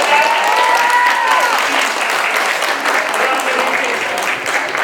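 Sustained audience applause fills a quiz competition grand finale hall, dense and fairly loud, fading slightly toward the end, with a brief tonal whistle or feedback early on.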